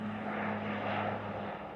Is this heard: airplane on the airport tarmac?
yes